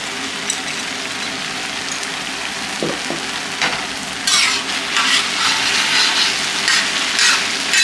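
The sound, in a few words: tomato puree and yogurt added to a hot pan, frying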